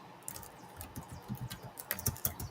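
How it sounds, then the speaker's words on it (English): Rapid, light keystrokes on a computer keyboard as a name is typed in, a quick pattering run of taps that is fairly close and clear, with no talking over it. "I'm going to type Janice's name in"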